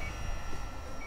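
Electronic flight timer beeping during a flight of a Durafly Gloster Gladiator Mk1 RC biplane, a steady high-pitched tone held throughout the brief moment over low wind and outdoor rumble.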